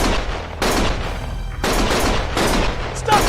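Gunfire in a Lost Judgment video game cutscene: dense, loud bursts of shots in several broadband blasts, with shouting mixed in.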